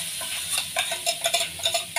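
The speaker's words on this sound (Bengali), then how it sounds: "চিকেনটা কমের মধ্যে এটা ভেজে নেবো। এখানে আমার শুটকিটা দেবো" Chicken frying in a pan as dried fish is added, a close, busy sizzle with quick stirring clatter and scraping pulses throughout.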